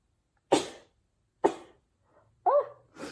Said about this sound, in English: of course I sneeze now